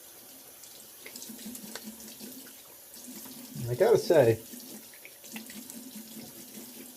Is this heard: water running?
yes